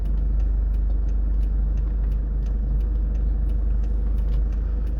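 A car's engine rumbling low and steady as it drives and turns around on a foggy road, heard close and continuous with no talking.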